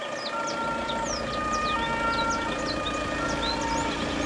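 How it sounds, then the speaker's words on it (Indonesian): A fire truck siren wails steadily through busy street traffic, with repeated rising and falling tones carrying over a constant rumble of engines. "Ada mobil pemadam kebakaran."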